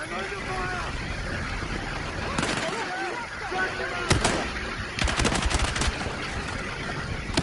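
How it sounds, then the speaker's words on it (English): Gunfire and explosions in a Battlefield 6 combat scene, with bursts of shots and sharp blasts over a constant rumbling battlefield din, loud and close, with soldiers talking throughout. "I'm under fire!"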